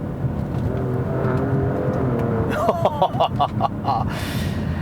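A 2018 Alfa Romeo Stelvio Quadrifoglio's engine revs up under acceleration, then a run of sharp exhaust pops and crackles in quick succession, loud and close, with a brief voice over it.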